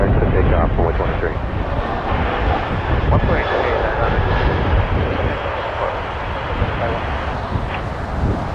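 An airliner departing Toronto Pearson airport, a loud sustained jet engine roar with broadband rumble and wind noise, overlaid by air traffic control radio talk.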